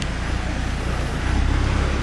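Tractor labouring along a rough, difficult track, a steady close engine rumble with heavy low-end drone that swells slightly toward the end, no voices over it.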